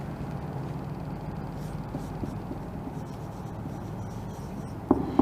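Chalk scratching on a classroom board as a teacher writes main points, a faint steady scraping under room hiss, with a couple of louder taps at the end.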